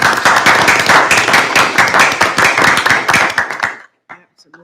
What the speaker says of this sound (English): may we give the teachers just a round of applause